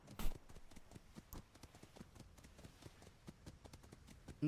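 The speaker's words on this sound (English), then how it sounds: "Oh my god, bloody horses are around." Horses' hooves clip-clop in a video game as a quick, steady run of light hoof taps at middle distance, fairly quiet with no talk over them.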